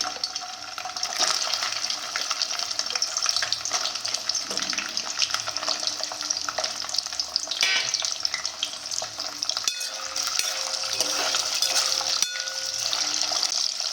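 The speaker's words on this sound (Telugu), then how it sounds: "మనం కడిగి పెట్టుకున్న చేప ముక్కలు ఇందులో వేసేయండి" Washed fish pieces frying in hot oil over a medium flame, giving a loud, continuous sizzle with occasional spatters and clinks, no talking.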